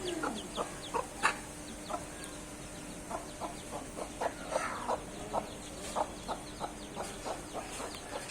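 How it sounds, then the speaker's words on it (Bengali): A rooster and chickens clucking in short, repeated bursts at a steady rhythm, close by, with no talking. "ওই দেখো উপরে মোরগটা চলে এসছে, আমার মোরগ এটা"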